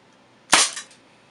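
A single sharp shot from a Dan Wesson 2.5-inch CO2 revolver, close and loud, with a brief decaying tail and no other sound around it.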